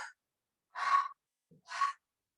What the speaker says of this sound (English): You don't have to breathe that loud.